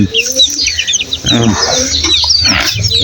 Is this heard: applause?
no